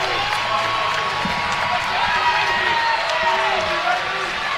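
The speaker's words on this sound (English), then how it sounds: "The crowd is excited now." Excited crowd noise at a college wrestling dual meet between Wyoming and Utah Valley, a steady, loud wash of cheering and shouting that holds for several seconds with a commentator talking over it.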